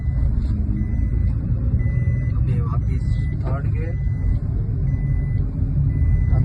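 A car engine runs as the car moves up through the gears. A steady low rumble carries on beneath a man's spoken instructions.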